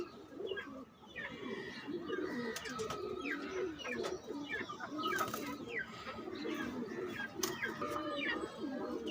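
A male pigeon coos in repeated soft, throaty phrases close by, with other birds chirping in the background and someone talking intermittently over the calls.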